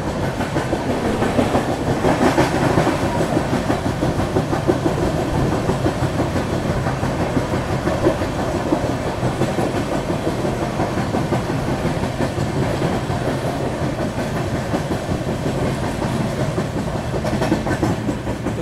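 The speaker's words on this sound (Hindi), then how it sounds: "तो यहाँ पे हमारी ट्रेन अभी स्किप करने वाली है मथुरा जंक्शन को, थोड़ी धीमी होगी है भाई।" Chennai Garib Rath Express rolling through Mathura Junction and easing its pace: a steady rumble of wheels on rails with rhythmic clickety-clack from the wagons, heard from inside the coach, continuous and fairly loud with no talk.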